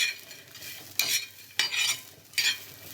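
Carrot, beetroot and tomato pieces are stirred while roasting in a pan, giving three sharp scraping strokes at a steady pace over a faint sizzle, close and moderately quiet.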